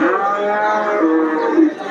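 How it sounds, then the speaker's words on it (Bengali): A single long, loud moo from a large cow carries through nearly the whole stretch, rising and then tapering off, close by. "এই দেখতে পাচ্ছেন বিশাল গাভী"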